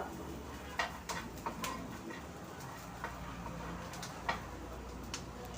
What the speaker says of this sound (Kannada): ಈ ಥರ ನೋಡಿ ಫುಲ್ ಚಟಪಟ ಚಟಪಟ ಅಂತ ಸೌಂಡ್ ಬರಬೇಕು ಅಷ್ಟು ಹುರ್ಕೋಬೇಕು